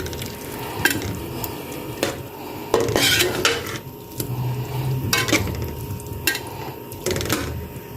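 Pasta being stirred with powdered spices, vinegar, black pepper and chicken powder in a pan, giving repeated scraping clinks of a spoon against metal over a low sizzle, with a few sharper knocks.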